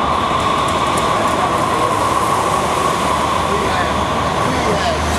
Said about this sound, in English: You got the T train going down the middle of the block.